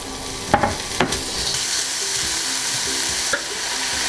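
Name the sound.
pork sautéing in a frying pan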